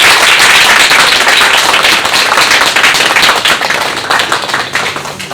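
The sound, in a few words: church congregation applauding newcomers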